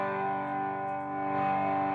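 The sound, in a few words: MXR Distortion+ pedal distorted guitar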